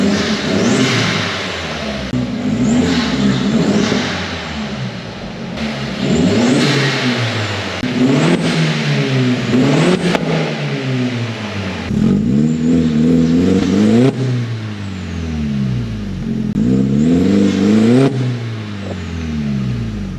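A VW Mk1 Caddy fitted with a new 2-inch TIG-welded exhaust system revs repeatedly, its engine climbing and falling in loud close bursts over roughly twenty seconds.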